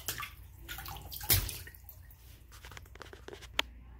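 Bath water sloshing and dripping during soapy washing in a tub, soft splashes and squishy movements with one louder splash partway through and a brief sharp drip near the end, no talking.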